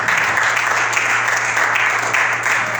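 A church congregation claps and cheers for the Lord in a steady, continuous wash of applause that fills the room, dense and even from start to finish, with no distinct voices standing out.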